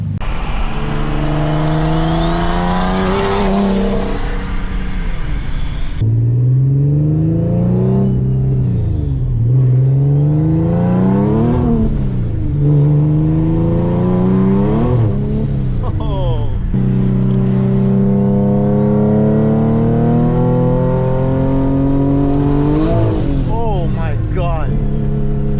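A built 800-horsepower Infiniti G37 coupe accelerates hard through repeated pulls, its engine note climbing and dropping loudly up close from inside the car for the whole stretch, with gear changes breaking the rising sweeps.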